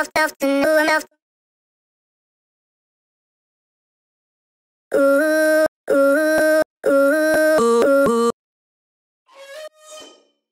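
Short chopped vocal fragments play in choppy bursts separated by silence, clipped syllables stuttering in quick succession before a softer final snippet.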